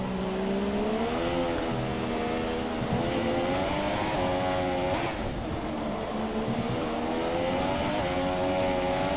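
A Formula 3 race car in an Abu Dhabi championship round pulls away under a loud, steady engine drone whose harmonics sweep up and down with revs for the whole stretch, with no talk over it.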